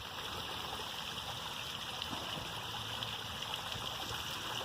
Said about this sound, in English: You can see how much water is running down in there.